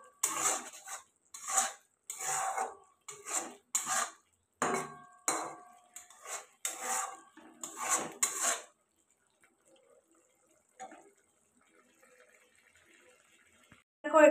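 Kochu palong shaak ghonto, a taro and spinach curry with potatoes, is stirred in a pan, giving bursts of metal clinks and scrapes for about eight seconds before fading to faint, sparse scraping near the end.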